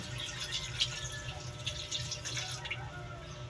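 Water pours and splashes into a cooking pot of mussels in a home kitchen, a soft, steady trickle with small drips, fairly faint and heard alone.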